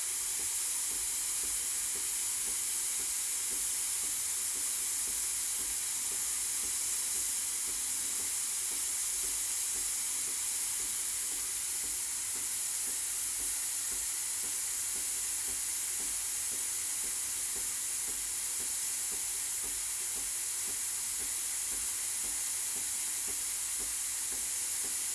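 A Breville Barista Express BES870 espresso machine's steam wand hisses steadily and without a break, a loud, broad, constant rush of steam with faint bubbling texture. No voices are heard.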